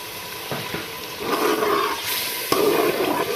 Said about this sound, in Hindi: टमाटर के बाद हम इसमें ऐड कर देंगे थोड़ा सा पानी।